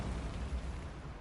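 A Bombarda spell explosion in Hogwarts Legacy, a brief rumbling boom heavy in the low end that rolls on for about a second without speech.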